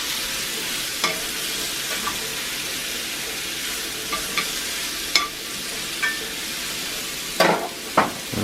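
Mushrooms sizzle steadily in a cast iron pan, with occasional sharp scrapes and taps from the stirring utensil over the continuous close frying hiss.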